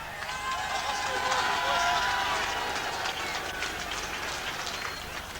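Packed all-ticket crowd of 36,000 at Upton Park roaring as West Ham and Tottenham Hotspur take the field for a 1980 League Cup quarter-final, a dense continuous wash of cheering and chanting with a shrill whistle-like tone early on.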